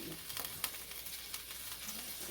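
Steady sizzling and crackling of shrimp frying in a hot pan, with a few sharper pops and stirring clatter.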